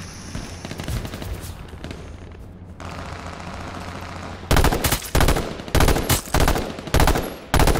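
Gunshots in the battle royale game H1Z1: Battle Royale, loud close bursts of rapid automatic fire chopped into several dense volleys, following a stretch of steadier rumbling gameplay noise.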